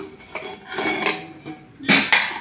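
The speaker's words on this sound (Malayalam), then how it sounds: "കുക്കർ തണുത്തിട്ടുണ്ട്. ഇനി ഇതൊന്ന് തുറന്നു നോക്കാം." A cooled pressure cooker, holding cooked lentils (parippu) for a Kerala-style curry, has its lid opened with several metal clanks and scrapes, then a sharper clatter near the end, all close by.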